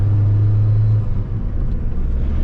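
A 1985 Saab 900S with a 5-speed manual rumbles steadily on a test drive, its engine drone low and loud inside the cabin with a slight dip as the load changes.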